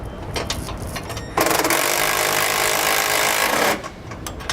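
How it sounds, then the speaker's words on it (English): A socket tool tightens bolts on SumoSprings helper springs on a 2017 Newmar Canyon Star motorhome, making one loud, steady mechanical whir that lasts about two seconds and cuts off sharply amid quieter shop noise. "I'm going to hold the wrench on the back side, holding that nut in place, while I take the socket and tighten up the bolts"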